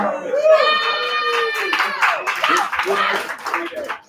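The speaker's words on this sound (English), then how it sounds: "Give yourselves a big round of applause for being here for the show" Audience applause at a Cult KC show: dense clapping from a crowd, mixed with voices and cheering, steady and fairly loud throughout before tapering at the end.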